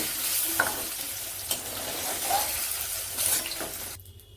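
Paneer pieces frying in a pan while being stirred, a close sizzle broken by several scraping knocks of the spoon, fading out near the end.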